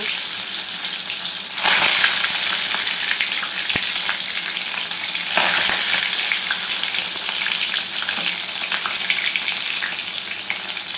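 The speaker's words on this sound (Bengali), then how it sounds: "সর্ষের তেলটা আমার গরম হয়ে গেছে এবার আমি পাতুরিগুলোকে ভিজে নেব" Paturi parcels, pumpkin-leaf wraps with shrimp, frying in hot mustard oil make a steady, dense sizzle throughout, with a few brief louder crackles and faint scraping.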